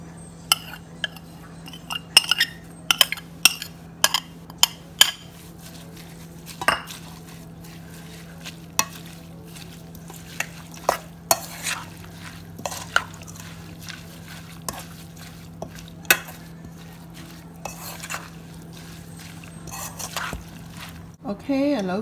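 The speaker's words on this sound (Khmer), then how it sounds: "ឥឡូវខ្ញុំលាយរួចរាល់អស់ហើយ" Cambodian beef steak sauce with prahok and chopped herbs being mixed in a bowl, irregular clinks and taps of utensils against the dish over a low steady hum, quiet and spaced out with occasional soft speech.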